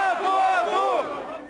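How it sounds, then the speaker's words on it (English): A crowd of protesters in Ukraine scream and yell together in the rain, a dense wall of raised voices that swells and then slowly fades over a second and a half. "Most of this crowd just stood in the rain and screamed"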